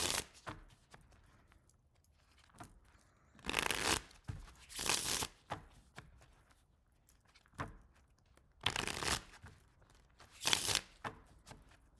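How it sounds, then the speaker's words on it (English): Tarot cards are shuffled in several loud, riffling bursts separated by quiet pauses, close up, with no voices. "Give these guys a good shuffle"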